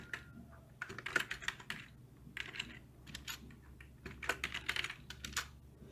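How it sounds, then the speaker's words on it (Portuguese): Quiet, rapid clicking of a computer keyboard as text is typed, the keystrokes coming in uneven clusters with short pauses, close and with no voices. "Vou digitar aí o meu texto."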